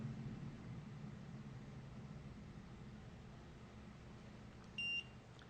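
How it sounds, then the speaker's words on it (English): An electronic door lock unit gives a single short, fairly faint beep near the end, over a steady low background hum. "Now you wait until the red light goes out and the unit beeps."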